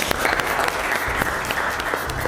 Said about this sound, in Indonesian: Tepuk tangan buat duanya.